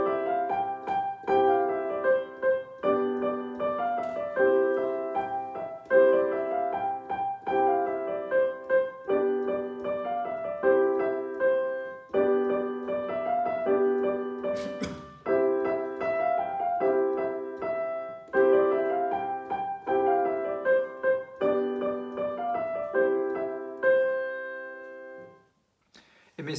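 Solo piano plays a tune, a steady melody over repeating chords in several matching phrases, clear and close, without voices, fading out at the end.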